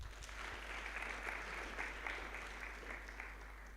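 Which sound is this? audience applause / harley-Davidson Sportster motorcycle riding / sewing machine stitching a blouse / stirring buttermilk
audience applause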